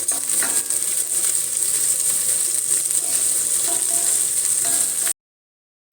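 Onions sautéing in a pan for fish curry, a loud steady hiss and sizzle with light scraping stirs, cutting off abruptly into silence near the end.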